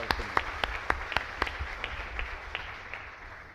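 Applause at a Catholic Mass in San Blas chapel during a novena, with sharp distinct claps ringing out in a steady rhythm over the crowd's clapping, fading over a few seconds.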